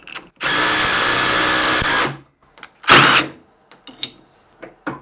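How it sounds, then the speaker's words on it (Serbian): Parkside impact driver tightening a nut while the other side is held, a loud buzzing rattle lasting under two seconds, then a second short burst and a few small clicks and taps of handling. "držat ću kontru ovdje i udarni odvijač ga zateže"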